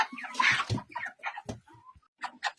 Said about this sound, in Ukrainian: Ось така гарна курочка у нас.